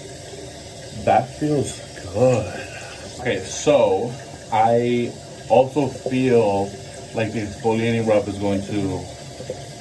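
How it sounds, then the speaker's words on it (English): A tap runs steadily in the background of a bathroom, a faint continuous hiss under someone talking close to the microphone. "sorry if you guys heard the water in the background"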